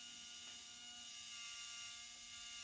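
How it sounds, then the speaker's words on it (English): A quiet, steady mechanical whir from a small electric motor lifting the axle on a Scania 8x4 model truck, running evenly and continuously with a faint high-pitched whine and no voices. "So that's lifting the axle up."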